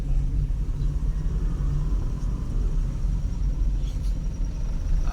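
Heavy road traffic on a city street in Iligan City in light rain: a steady, continuous low rumble of car engines close by, holding level throughout with no voices.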